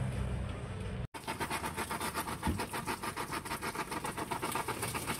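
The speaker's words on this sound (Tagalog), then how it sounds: "Kumukulo yung makina." An overheating car engine runs at a steady, rhythmic idle up close, with a brief cut near the start and faint clicks.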